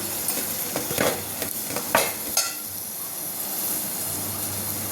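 Chopped onions and green chilies drop into hot oil with curry leaves for a drumstick tomato curry, a few soft clatters giving way to a steady, moderate sizzle with no talking.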